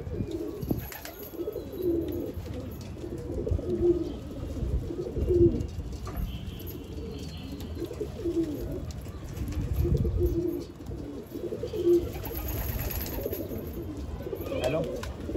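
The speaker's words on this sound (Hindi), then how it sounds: "ये पकड़ा कबूतर" Pigeon cooing from a Hyderabadi pigeon caught in a net, soft repeated coos at a steady rhythm over a low rumbling background, with a voice talking at times.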